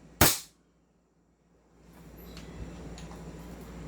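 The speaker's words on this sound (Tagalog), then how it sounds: "this is a 1911. Chrono test po natin. Full upgrade version, firing!" An AWC 1911 airsoft pistol in full upgrade form fires one sharp, loud crack during a chrono test, followed by silence and then a low background hum.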